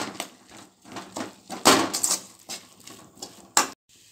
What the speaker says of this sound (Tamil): சேர்த்துக்கிட்டு எல்லாத்தையும் மிக்ஸ் பண்ணிக்கோங்க நல்லா